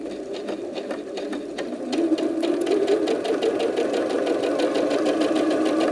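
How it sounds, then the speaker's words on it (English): A sewing machine stitches pairs of quilting fabric triangles into single units for a Jacob's Ladder block, running as a fast, even mechanical whir that picks up slightly in speed and loudness after a brief start. "take your pairs to your sewing machine and sew them as one unit"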